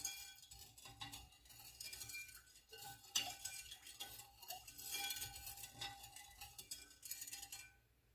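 A spoon stirring sugar into homemade Jamaican sorrel drink with ginger, clinking repeatedly against the container in a steady, fairly quiet rhythm.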